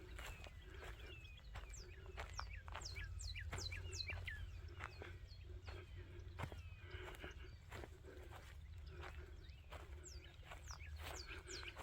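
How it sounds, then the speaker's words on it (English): Many birds chirp and sing in short, repeated calls, near and far, over a steady low rumble outdoors on a marsh trail in Florida, with some scattered footstep-like knocks. "Listen to the birds."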